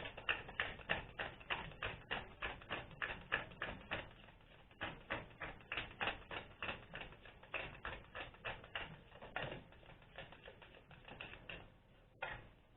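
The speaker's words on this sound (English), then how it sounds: "One more shuffle." Cards are shuffled in a long run of rapid, rhythmic flicking taps, faint and steady with slight pauses near the end.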